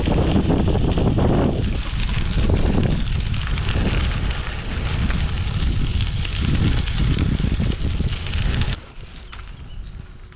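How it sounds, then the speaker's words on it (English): Triban GRVL 520 bike tyres crunching and rolling over gravel in a steady, loud rumble with wind buffeting the microphone, which drops away abruptly near the end. "You can probably hear now I'm on the gravel, and it's an absolute beautiful ride"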